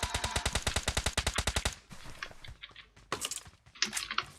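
Gunfire in PUBG Mobile: a long rapid-fire burst of sharp, evenly spaced shots, followed by scattered single cracks and short bursts with quiet gaps in between.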